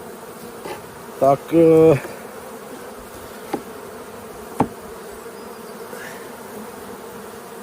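Honeybees buzzing at the hive: a short burst of close, loud buzzing near the start, then quiet hive murmur with a couple of faint clicks, and one brief spoken word.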